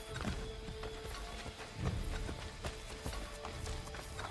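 Horse hooves clip-clopping at a steady trot in the video game Assassin's Creed 3, with a faint whinny, plus thuds and ambient game noise throughout.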